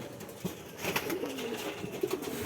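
Giribaj pigeons kept on a house rooftop give soft, low cooing calls, a few brief coos over quiet background noise.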